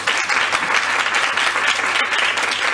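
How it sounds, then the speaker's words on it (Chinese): An audience at a formal Taiwanese political gathering applauds, a dense, steady clapping that carries evenly from start to finish. "大家掌声鼓励一下啊！"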